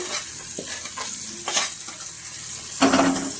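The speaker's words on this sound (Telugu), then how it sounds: "దీన్ని వేగనిద్దాము ఇది పోపు అయితే అయిపోయింది" Spices sizzle softly in hot oil with a gentle crackle, punctuated by a few stirring clinks and scrapes, as a tempering is made for curd vadas with the stove switched off.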